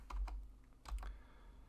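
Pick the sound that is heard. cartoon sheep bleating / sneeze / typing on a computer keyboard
typing on a computer keyboard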